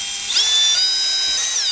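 A power screwdriver whirs briefly while driving Phillips screws from an interior panel on a JL Wrangler, a steady high-pitched motor whine rising and holding for under two seconds, close and alone.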